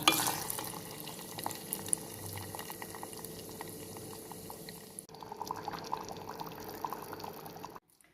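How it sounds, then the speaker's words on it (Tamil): Heated ghee poured into sweet pongal in a pot, a soft close liquid pour with light sizzling and stirring sounds, steady and fairly quiet, ending abruptly. "காய்ச்சி வச்ச நெய்யை இதில் ஊற்றிடணும்"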